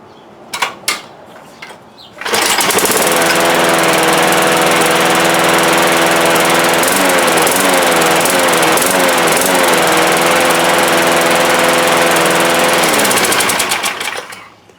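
A repaired lawn mower engine, its oil smelling of gasoline, starts after a couple of pulls and roars loudly and steadily at close range, its pitch wavering briefly, before shutting down and winding to a stop.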